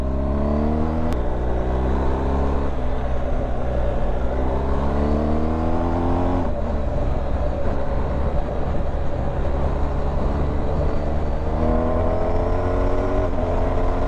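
A BMW R1250 GS HP motorcycle's engine rises through the revs with a quickshifter, its harmonic tones stepping up and dropping at each gear change, loud and steady with constant wind noise.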